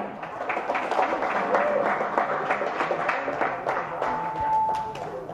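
Crowd applause in a gym as wrestlers are introduced at a German district-league freestyle wrestling meet, scattered clapping under a reverberant announcer's voice.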